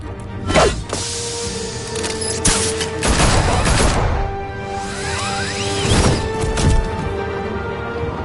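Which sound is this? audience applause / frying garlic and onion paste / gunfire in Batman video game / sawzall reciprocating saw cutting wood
gunfire in Batman video game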